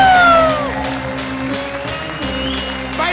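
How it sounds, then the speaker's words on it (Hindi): A studio audience at a Holi episode of the Comedy Circus comedy show claps in steady, sustained applause beneath tonal music, loud and close throughout. "तुम भी ताली बजाओ।"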